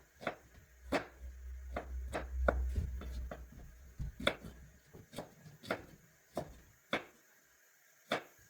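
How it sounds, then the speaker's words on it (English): A knife chops onions on a cutting board in a home kitchen, a dozen sharp, evenly spaced knocks with quiet gaps, close and fairly crisp, one stretch under a low hum. "Now let's cut our onions for frying."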